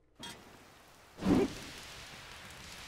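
Rain falling in the video game Zelda: Tears of the Kingdom, a soft steady patter starting abruptly, with a brief louder rumbling swell partway through before settling back to quiet rainfall.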